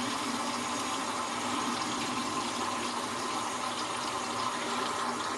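Tap water running into and rinsing a film developing tank, a steady close splashing gush that holds evenly throughout with no speech.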